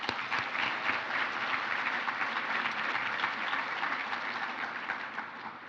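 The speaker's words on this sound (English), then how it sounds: "Let's give her a round of applause." A conference audience at a regional sustainability summit applauds steadily for a guest speaker, dense clapping sustained throughout and tapering slightly at the end, heard from within the hall.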